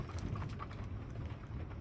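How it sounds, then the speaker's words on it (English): Steady rain falls outside, a dense, even patter and hiss that stays constant and fairly quiet throughout, with no talking. "I hope you can hear the rain"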